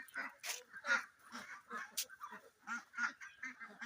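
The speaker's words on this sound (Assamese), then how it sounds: "মোৰ কালাৰিং হাঁহ" Kalaring ducks, about two months old, quack close by on a farm in quick, harsh, overlapping bursts, one after another with short gaps.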